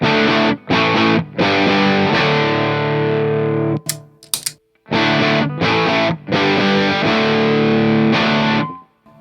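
Overdriven electric guitar through a Nobels ODR-1 pedal with its clipping switch engaged, playing chunky, mid-forward chords and short riffs, with a couple of brief pauses and quick high scratches in between.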